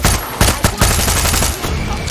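Automatic gunfire rattles from a high-recoil gun in the shooter game Far Cry 6, a loud, dense burst of rapid shots fired close and continuously across the whole stretch with no pause.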